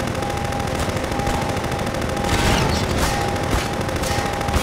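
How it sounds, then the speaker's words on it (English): An enemy fires at the player in Half-Life 2, a continuous rattle of rapid gunshots that stays fairly loud and steady over a busy game background. "Oh, he's shooting at me!"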